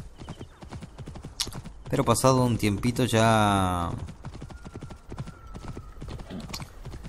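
Horse galloping in the Assassin's Creed Origins video game, a rapid clip-clop of hooves running steadily through the whole stretch with a neigh or whinny midway, under someone talking in Spanish.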